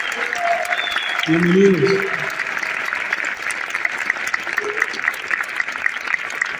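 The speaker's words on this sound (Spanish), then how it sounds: "vamos a darles un aplauso a toda la gente nueva" Sustained applause from an audience fills the clip, steady and dense throughout, with a brief spoken greeting heard over the clapping near the start.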